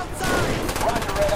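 Rapid automatic gunfire in Call of Duty: Black Ops rattles in a short, loud, close burst with repeated cracks, amid game noise.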